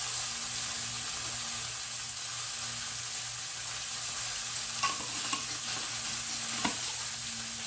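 Spices such as sage and chili powder are stirred into pork stew in a slow cooker, giving a steady soft hiss with a few scraping clicks near the end.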